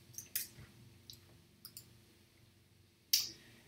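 Several soft, scattered keyboard clicks in a quiet room: a few taps early on, a couple more in the middle, and one sharper keystroke near the end, with a steady low hum underneath.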